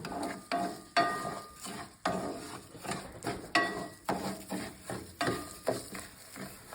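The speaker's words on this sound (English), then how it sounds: "We are then going to brown our rice. Let it heat up and brown." Dry rice browning in a hot pan is stirred in a regular rhythm, each stroke giving a crisp scraping rustle over a faint sizzle, repeating roughly twice a second.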